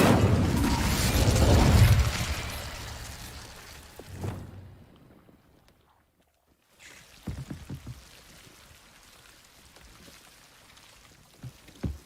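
An Incendio fire spell cast in Hogwarts Legacy: a loud whooshing, crackling burst of flame that fades over a few seconds, followed by near silence and then scattered small clicks and taps.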